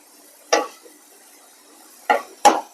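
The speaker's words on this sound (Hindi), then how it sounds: "इस तरह से बराबर चलाते हुए दोनों तरफ अच्छे से फ्राई कर लेते हैं बूंदी को" Boondi fries in a kadhai and gets stirred, heard as three distinct metallic scraping clinks of a ladle against the pan. The oil underneath is only a faint hiss.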